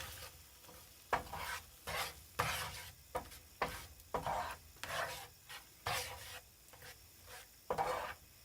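Baked beans are stirred into a pot of camp ketchup in a steady rhythm of about a dozen close, wet scraping strokes, with no one talking.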